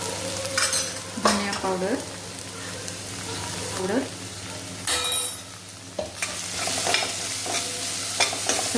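Garlic, chilli powder, turmeric and ridge gourd sautéed in a pan: a constant sizzle broken by scraping stirs, with someone talking briefly over it.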